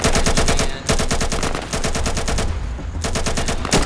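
Automatic gunfire in the video game Insurgency, loud rapid bursts of close shots with brief pauses between volleys.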